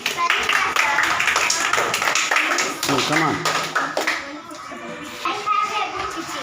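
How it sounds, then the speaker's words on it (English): Children clap their hands together in a classroom game, a steady run of sharp, loud claps under an adult teacher's speech and young voices. "Claps."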